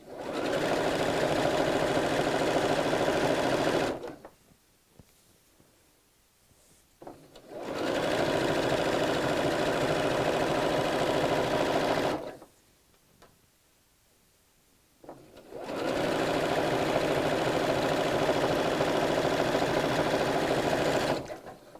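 A sewing machine stitches a woven fabric cushion cover in three loud, steady mechanical bursts, each a few seconds long, separated by quiet pauses, close by with no talking.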